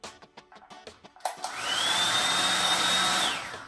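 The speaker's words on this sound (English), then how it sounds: "I also blow dry on medium heat" A few soft clicks and taps lead into a hair blow dryer switched on at medium heat, which sets up a steady, close airy whoosh with a high motor whine for a couple of seconds.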